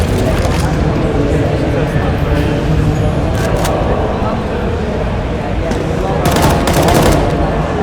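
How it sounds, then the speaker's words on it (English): Dense gunfire from a Counter-Strike: Global Offensive esports match at the Insomnia 65 LAN event: shots are sprayed in rapid bursts over a steady wash of game noise, with speech running alongside throughout. "He's going to try and spam some shots through."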